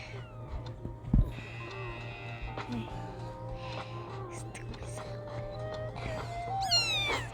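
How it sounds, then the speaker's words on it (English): A cat meows repeatedly while struggling to get out of a pillow fort, rising and falling cries at moderate distance, mixed with people talking and a steady electrical hum underneath. "This cat trying to get out the fort."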